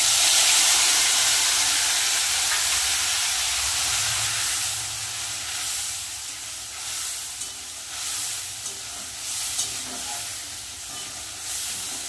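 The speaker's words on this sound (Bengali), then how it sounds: "ভালো করে মশলাটা কষিয়ে নেব।" A ground paste of ginger, cumin, green chillies and red chillies with a little tomato fries in a pan, hissing and sizzling loudly at first, then settling into a softer sizzle with small bursts as it is stirred, with no voices.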